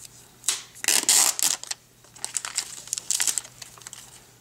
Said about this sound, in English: Now let's just peel the wrapper off.